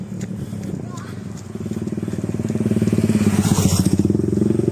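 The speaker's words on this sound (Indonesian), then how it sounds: "Ini lagi banyak mobil motor." Motorcycles and cars pass on a foggy morning road near Seranggas market in Liwa, West Lampung, with a loud, close engine throb that grows into a rapid rhythmic putter, while people talk over it.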